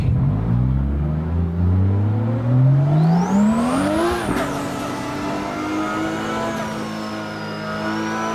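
A drift car engine in the video game Driftmaster revs up in a long rising sweep, peaks sharply, then drops and settles into a steady loud drone, with no one speaking.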